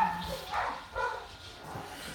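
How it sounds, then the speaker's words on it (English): Dogs bark indoors, several muffled yips and barks at middle distance in an uneven run, moderately loud against a room background. "The dogs are acting up again."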